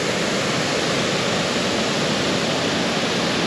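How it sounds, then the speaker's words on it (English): Water pouring over the dam at DeSoto Falls near Fort Payne, Alabama, a dense, steady roar of falling water that stays loud and unchanging, with no voices. "There's a lake just above that the water's coming over and coming right down through here."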